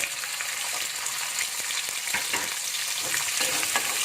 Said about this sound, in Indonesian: Kita masukkan adalah petenya dulu. Kita goreng ya.